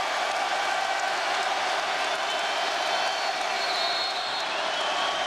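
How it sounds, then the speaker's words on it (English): Arena basketball crowd jeering and roaring after Kobe Bryant's air ball in a Lakers versus Heat game, a dense, steady wall of crowd noise with whistles and shouts throughout. "as he heads back to the bench, the crowd is all over him"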